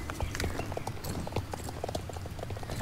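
In the Star Stable Online video game, a horse's hooves clip-clop in a quick, steady rhythm, close and continuous over a low background hum.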